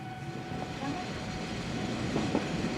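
A subway train in a film scene rumbles steadily, with a low continuous rolling drone and faint clatter that holds level throughout.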